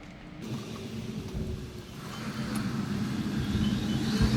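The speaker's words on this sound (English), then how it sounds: "You hear a truck in the background, that's a garbage truck." A garbage truck passing in the background, a low rumbling engine drone that grows gradually louder across the clip, faint and steady with no voices.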